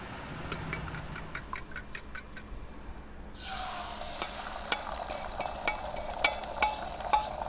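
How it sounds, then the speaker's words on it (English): Bread toasts in a buttered pan, a soft sizzle that swells partway through, with regular ticking taps and small pops scattered over the crackle. "You just coat a little bit of butter on the bottom of the pan, and that just really helps with the bread toasting."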